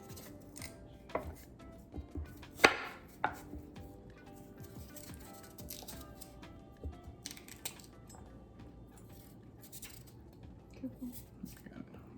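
A knife cutting into a pumpkin on a board while preparing Jamaican pumpkin chicken soup, with irregular soft chops and scrapes, one sharper cut early on, and quiet kitchen sounds throughout.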